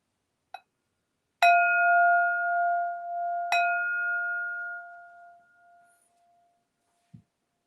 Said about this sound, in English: Let's go second bell here.